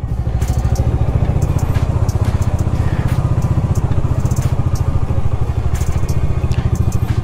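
A motorcycle pulls away in first gear through an old Nepali village, its engine chugging in a fast, even pulse close by with light clatter and crackle on top, and no talk.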